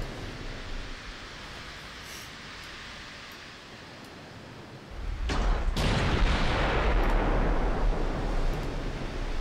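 Warship guns fire during a naval battle in the video game Dreadnought Improvement Project, French campaign: quiet rumbling sea ambience, then a sudden loud broadband blast that settles into a sustained heavy roar.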